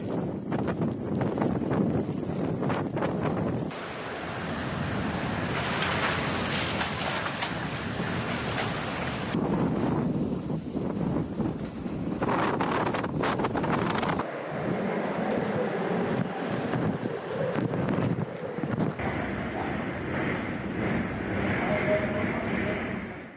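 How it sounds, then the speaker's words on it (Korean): Typhoon Haishen's winds, gusting above 60 metres per second, batter the coast and towns in a loud, continuous roar with surging gusts and crashing surf-like surges, heavy wind buffeting across the whole stretch. "당시 해안가와 마을 도시를 덮쳤을 때 태풍 소리입니다"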